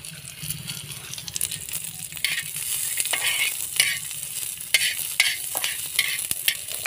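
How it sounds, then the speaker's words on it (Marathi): Masala with coriander seeds roasts on a griddle, a dry crackling sizzle broken by repeated scraping stirs and small rattling seed sounds, close and steady with no voices. "आता आपण हा मसाला तव्यावर भाजून घ्यायचा आहे। त्यामध्ये आपण धने टाकून घ्यायचे आहे आपल्याला।"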